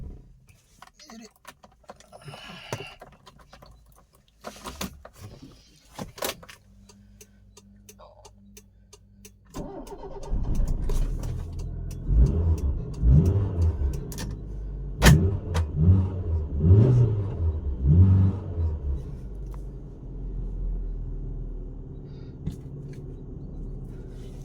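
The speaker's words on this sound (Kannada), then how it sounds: "ಇಂಜಿನ್ ಸೌಂಡ್ ಕೇಳಿಸ್ತೀನಿ, ಗಾಡಿ ಸೌಂಡ್ ಹೆಂಗಿರುತ್ತೆ." A 2005 Hyundai Accent with a petrol engine: faint clicks and ticks come first, then the engine cranks and catches about ten seconds in. It settles into a steady idle with a few rising revs, and a voice is heard at times.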